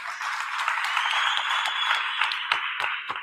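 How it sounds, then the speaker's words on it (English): A workshop audience applauds the winners with brisk, fairly close clapping that holds steady and then thins out into a few sharp final claps. "let's give them a round of applause"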